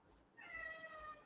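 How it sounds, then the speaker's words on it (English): A pet cat gives a single short, faint meow indoors. No voices are heard. "Girl, you were supposed to meow."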